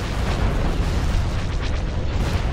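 Torpedo explosions in a Star Wars space battle video game, a dense roaring blast that fills the whole short stretch, loud and close, with no talk.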